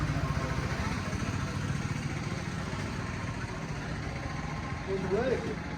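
A tractor engine runs steadily at idle with a low, pulsing throb, heard close by with a constant level and a brief rise near the end. Voices are present over it.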